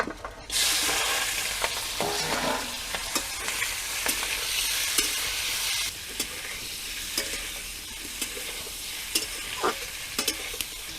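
Loud, steady sizzling of prawns frying in hot oil in a kadai begins after a half-second, with scattered crackles and stirring clinks throughout; no talking.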